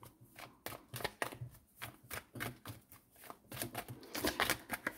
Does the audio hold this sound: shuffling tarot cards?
yes